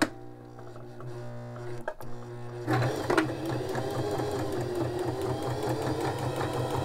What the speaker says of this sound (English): you just stitch right alongside this fold here and, and on this stitch you will have to backstitch